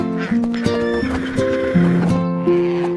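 A horse neighs in a sustained, wavering whinny. The call is loud and close, heard against a musical nursery-rhyme backing of held tones.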